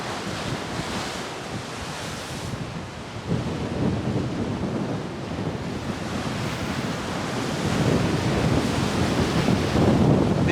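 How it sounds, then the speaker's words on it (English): Rough ocean surf pounding against the cliffs of a cove in Jamaica, a continuous heavy roar of breaking waves with wind buffeting the microphone, swelling louder toward the end with no voices. "The ocean is kind of rough today."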